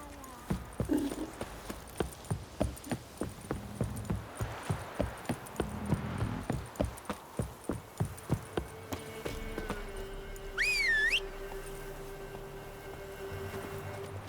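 Roach, the horse in The Witcher 3, gallops with a steady run of hoof clip-clops for about nine seconds, then slows to a stop; a whinny rises near the end over a low drone.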